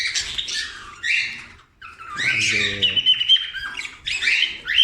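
Young canaries at weaning squawk and chirp in bright, harsh bursts, loud and close, with a short pause partway through before the calls resume over each other.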